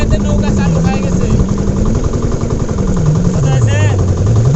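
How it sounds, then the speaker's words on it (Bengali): A motorboat engine chugs steadily on Hasagari beel, a close rhythmic throb with its pitch wavering and dipping near the end, while people talk over it. "হাসাগারে বিলাতে নৌকা চালু হয়ে গেছে"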